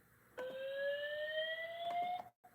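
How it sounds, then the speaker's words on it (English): A fire alarm on a demo board sounds a steady electronic tone with a slowly rising pitch, starting abruptly, holding for nearly two seconds with faint pulsing and then cutting off, alone in a quiet room. "So fire alarm with elevator."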